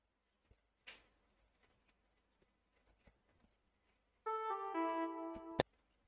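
A synthesized trumpet patch from the Morphine plugin in FL Studio plays a short, bright held phrase of about a second, preceded by scattered faint clicks and ticks in near silence.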